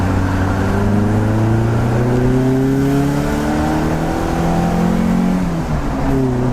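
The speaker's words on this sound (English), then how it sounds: "We love a second gear pull, that sounds insane." Loud, sustained engine roar as a car accelerates hard in second gear, pitch climbing steadily without a shift.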